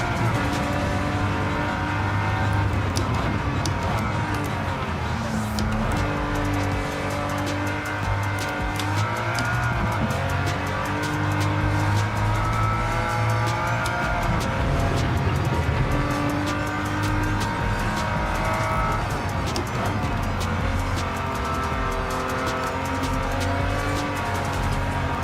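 A racing car engine in Gran Turismo 7 roars continuously, its pitch climbing and dropping through gear changes, with a faint tire squeal now and then.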